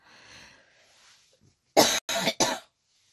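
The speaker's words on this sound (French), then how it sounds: "je tousse toujours" Three quick, harsh coughs in a row, close and loud, following a stretch of quiet faint sound.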